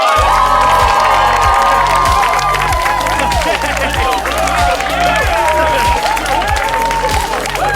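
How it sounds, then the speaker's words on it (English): An improv show audience applauds and cheers loudly, with a dense wash of clapping and shouting held steady throughout over a driving, thumping music beat. "Please, huge round of applause for Script Not Found, everyone."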